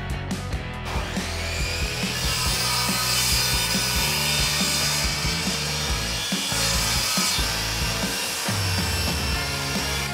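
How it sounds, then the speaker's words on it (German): A Parkside table saw cuts wooden shelf parts, a loud close whining blade with continuous rasping bites through the wood that swell and ease as pieces are fed through over about ten seconds. "Zum Zuschneiden der Bauteile nehmen wir die Parkside-Tischkreissäge."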